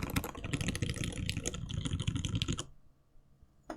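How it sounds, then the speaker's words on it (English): Rapid keystrokes on a Raindrop prototype mechanical keyboard by Laneware clatter close and steadily for a couple of seconds, then stop, leaving quiet with a final key press. "I'm just giving you some keyboard sounds while I ponder the scenario that I'm in"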